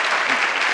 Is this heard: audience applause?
yes